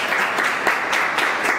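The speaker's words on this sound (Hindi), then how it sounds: "एक बार बजा दीजिए तालियां" An audience at a Bhojpuri poetry recital applauds with a continuous wash of clapping, fairly loud and even throughout, with a few sharper claps rising from the crowd.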